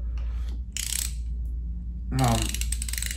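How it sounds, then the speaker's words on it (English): A LLAVETOR precision adjustable torque wrench's ratchet head clicks as its direction switch is flipped, giving a short burst of dry clicks and then a louder, rattly ratcheting run near the end, close and fairly loud with a low hum beneath. "This is the ratchet head."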